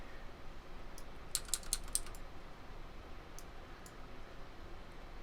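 Bracket keys clicked on a computer keyboard while adjusting the brush size during photo retouching: a quick cluster of light taps, then a few scattered single clicks, faint over steady background hiss.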